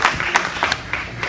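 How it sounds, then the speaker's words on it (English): Brief scattered clapping from an audience at a fundraiser honoring veterans, a few uneven claps close by with a light murmur. "so we can give you a round of applause as well"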